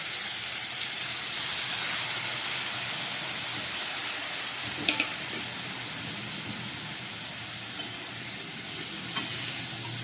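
Spiced water splashes into a hot pan of fried, spice-coated bhola fish, bursting into a loud hissing sizzle that settles into a steady steamy bubbling, with a couple of sharp utensil clicks.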